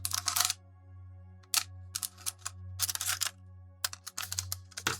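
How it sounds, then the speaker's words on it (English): A section is cut out of a cup in short, crisp snipping and crackling bursts separated by quiet pauses, close and fairly faint over a low steady hum. "So what I'm going to do is cut a section out of the cup."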